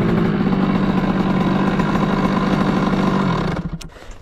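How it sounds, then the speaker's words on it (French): A 50cc moped fitted with a 86cc Top alu kit idles as it warms up on a cold day, its steady close putter holding loud and even before dropping away near the end. "C'est une tannée à faire chauffer sa moto."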